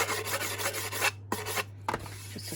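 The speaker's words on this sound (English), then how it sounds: "sand those bits off" Hand sanding wood veneer bits off a box, close and rhythmic with rapid rasping back-and-forth strokes, then a pause and several separate rubs, over a low steady hum.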